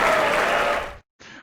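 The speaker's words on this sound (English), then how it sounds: "I did put a large crowd applause" Applause from a large crowd, dense and loud, rolls for about a second and then cuts out abruptly; after a short gap, a quieter burst of the same clapping returns briefly.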